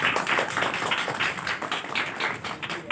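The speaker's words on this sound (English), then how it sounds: "Let's have a big clap for Rumi madam" An audience claps steadily for a prize winner at a Republic Day celebration, a continuous dense patter of many hands, fairly distant and even throughout.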